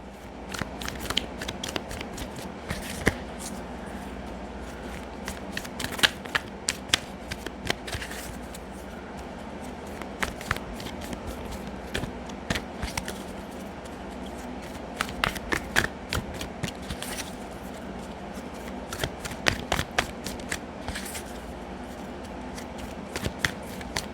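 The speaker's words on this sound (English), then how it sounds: "I like to give them a good shuffle because sometimes they stick together." Tarot cards being shuffled by hand at close range, with repeated bursts of riffling and snapping between quieter rustling handling, and no voices.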